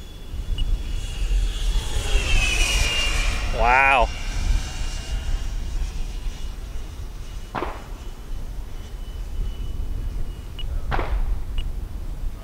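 An HSDJETS T-33 RC jet with a 120mm electric ducted fan sweeps past, its rising and falling whoosh peaking midway, while spectators exclaim over it.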